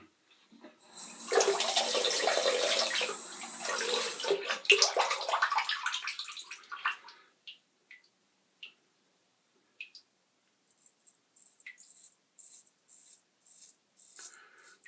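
Tap water runs for several seconds as a straight razor is rinsed under it, a close hissing splash that stops abruptly, followed by quiet with scattered small clicks and taps.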